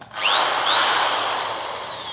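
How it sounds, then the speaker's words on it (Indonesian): A RYU RDR10 electric drill fitted with a 6 mm bit bores into a 6 mm thick metal plate, giving a loud, close, sustained whine that rises in pitch as the motor spins up and holds steady. "untuk uji pertama kita akan coba ngebor plat dengan ketebalan 6 mili ya"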